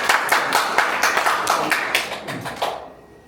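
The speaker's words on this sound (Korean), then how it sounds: "박수로 모시겠습니다." Meeting attendees clap to welcome the next speaker, a steady burst of close hand claps with a rhythmic pulse that fades out near the end.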